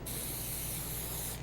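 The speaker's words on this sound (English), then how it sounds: "It does spray well, so you can make it different colors." An aerosol can sprays a steady hiss of floral spray over a hydrangea arrangement, one continuous burst lasting the whole moment, close and loud with no talking.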